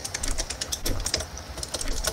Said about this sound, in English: Damn, you're typing fast.